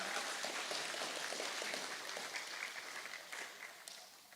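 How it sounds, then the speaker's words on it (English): A church congregation gives a dense burst of applause, many hands clapping together at once, loud at first and gradually fading. "give your clap offering to our Lord Jesus Christ"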